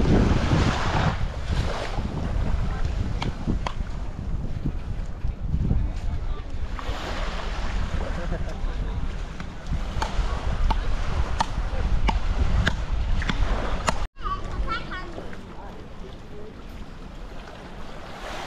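Waves washing onto the shore at the end of Praia da Ferradura in Armação dos Búzios, a steady broadband surf roar with heavy wind buffeting on the microphone and a voice speaking over it.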